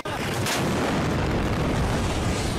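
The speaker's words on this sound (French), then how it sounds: "Plusieurs coups de feu ont ensuite été tirés, suivis un peu plus tard d'une deuxième explosion." Gunfire and an explosion at Aden airport in war-torn Yemen, heard as a sudden blast that gives way to a loud, continuous rumbling roar with no talk.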